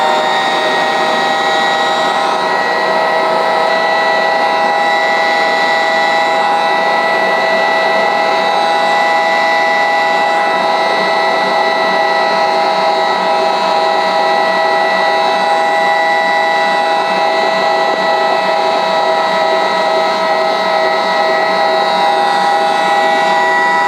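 Kitchen stand mixer kneading bread dough for four loaves on its lowest speed, a steady loud motor whine with a constant tonal hum that runs unbroken from start to finish, no voices.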